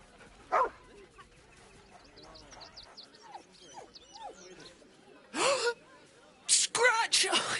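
The dog Scratch barks and yips a few times in Baldur's Gate 3, short bursts near the end after quieter chirpy background ambience, with characters' voices mixed in.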